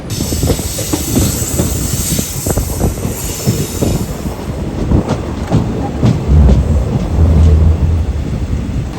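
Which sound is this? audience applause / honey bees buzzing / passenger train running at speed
passenger train running at speed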